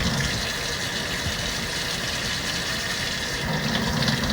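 Nail tools are rinsed under a running tap, making a steady, loud gush of water that flows continuously and close by, with no talk.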